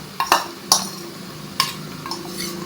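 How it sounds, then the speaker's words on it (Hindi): Ginger garlic paste fries in a karahi with light browned onion while a spoon scrapes and clinks against the metal in several sharp strokes over a low sizzle. "अदरक लहसुन की पेस्ट की भुनाई करेंगे"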